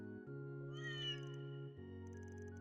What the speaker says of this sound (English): What's the cat doing up here?